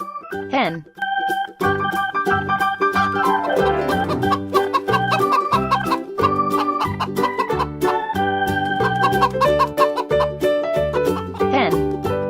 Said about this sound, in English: Hen.